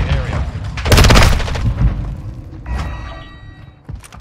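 A grenade blast and gunfire inside the video game Modern Warfare 2: a heavy boom followed by rattling shots over a dense mix, with players talking over the action.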